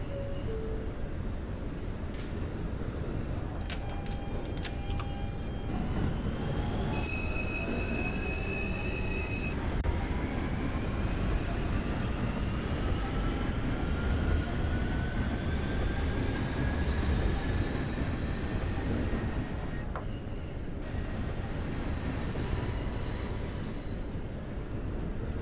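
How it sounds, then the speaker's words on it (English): An R160 subway train on the R local in the OpenBVE train simulator game, departing a Brooklyn-bound station: a steady loud rumble of wheels and motors with rising tonal whine and brief squeals, continuous throughout. "This is a Brooklyn-bound R local train."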